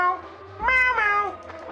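A human voice imitates a cat, giving two drawn-out, close meows with a bending pitch while playing the video game Gato Roboto, with a faint low hum underneath.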